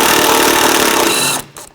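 Power tool, likely an impact gun, running on 15mm strut mount bolts of a 2007-2017 Jeep Patriot 2.4L, one loud continuous rattling burst up close that cuts off abruptly, with faint knocks after.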